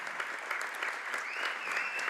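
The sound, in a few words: crowd applauding a departing basketball player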